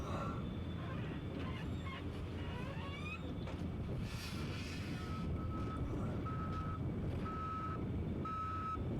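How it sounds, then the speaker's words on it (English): A boom barrier gives a warning signal of evenly spaced, repeated beeps that start partway through and carry over a constant heavy rumble in the background. "It's the boom barrier."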